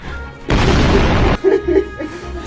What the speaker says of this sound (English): I'm not buying that explosion